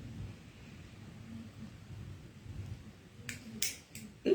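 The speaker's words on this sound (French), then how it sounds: "Il pleut dehors." Rain falls steadily outdoors as a low, even hiss, broken near the end by a few sharp cracks of nearby thunder, the last one loud and sudden.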